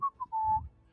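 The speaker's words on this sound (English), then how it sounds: "That was me whistling." A person whistles a short tune: two brief notes followed by one longer held note, clear and alone.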